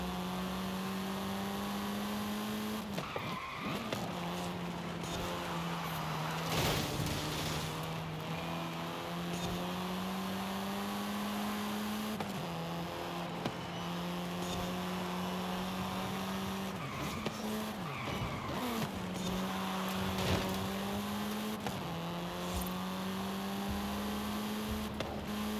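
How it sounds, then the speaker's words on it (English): Car engine droning steadily in the Forza Horizon 5 racing game, with its pitch rising and falling through gear changes, punctuated by crashes and scraping impacts as the car slams into things, loud and continuous. "that sounds like a futuristic car from back in the day, Preston"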